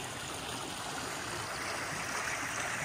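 A river rushes steadily past the cottages of Bibury village in the Cotswolds, England, producing a continuous broadband wash of flowing water that stays close and even throughout, with no voices.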